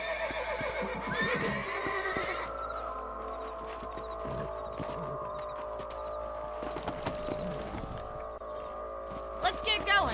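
Horses in the Red Dead Redemption video game, a whinny early on followed by soft hoof clip-clops and riding sounds over steady game music and ambience, with brief vocal bits near the end.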